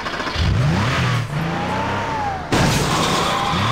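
A car engine in the game Hitman 2 revs and accelerates in rising, whining sweeps, loud and close, with a sudden heavy burst partway through as it speeds toward gates.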